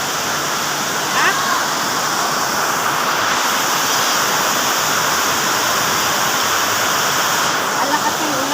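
Heavy rain pours down in a loud, constant roar, like water rushing steadily, with faint voices audible in the background.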